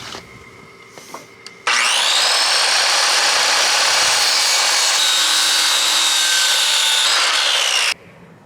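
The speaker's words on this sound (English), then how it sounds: "We cut it with the circular saw." Circular saw slicing through a wooden end cap for a barrel sauna, a loud steady whine held for about six seconds after a short faint lead-in, then cutting off abruptly.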